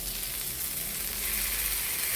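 Kallur fish frying in hot oil sizzles with a steady, close crackling hiss that holds throughout without pause.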